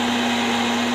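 An electric blender whirs steadily, loud and close, as it blends a thick cheese mixture with a little oil. The motor holds a constant high hum with no voices.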